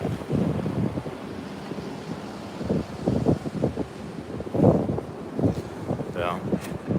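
Wind buffets the microphone over surf rolling onto a beach at sunrise, a steady blustery roar with surging waves, with a voice speaking intermittently.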